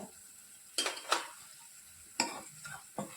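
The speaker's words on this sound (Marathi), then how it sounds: "हे मसाले आपण छान परतून घ्यायचे" Red chili powder, onion-garlic masala and black masala frying in a pan, with a few quick stirring scrapes and brief sizzling bursts separated by quiet moments, close by.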